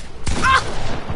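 A single sharp sniper shot in Fortnite, one loud close crack with a short ringing tail, over low background game noise.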